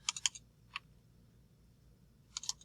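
Someone types on a computer keyboard: a quick burst of clicking keystrokes, one isolated tap, then another short flurry of keys. The keys sound close in a quiet room with no talking.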